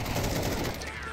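Dense automatic gunfire in a shooter video game, rapid bursts rattling loudly and continuously over a noisy game mix.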